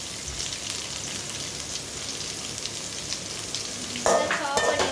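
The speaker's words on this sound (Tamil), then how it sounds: "அது லைட்டாக பொரியட்டும்." Spices fry lightly in oil in a pan, giving a dense, even crackling sizzle close up, with a brief clatter and a louder burst of frying near the end.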